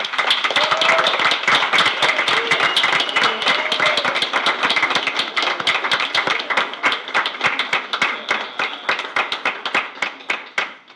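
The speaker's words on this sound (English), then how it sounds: "can we ask your staff and parents to stand so we can give them a big round of applause?" Attendees at a Board of Education meeting give a long, vigorous round of applause, many hands clapping densely and evenly for several seconds before gradually thinning out.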